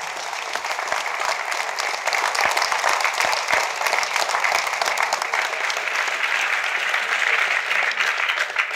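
An audience applauds steadily, a dense wash of many hands clapping that holds at an even level throughout.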